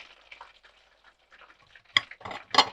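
Quiet sizzling of young potato fries and breaded chicken fillet frying in a pan, with a couple of sharper clinks and stirring scrapes toward the end.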